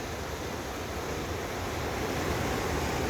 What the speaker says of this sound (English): Look at those, all those class 1, class 2 rapids over there.